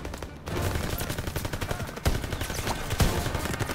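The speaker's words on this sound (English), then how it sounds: "it's a shotgun" Shotgun fire in the Call of Duty WW2 game, heavy booming blasts standing out at intervals over a dense, continuous din of battle gunfire.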